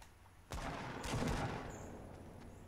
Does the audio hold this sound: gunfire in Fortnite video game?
yes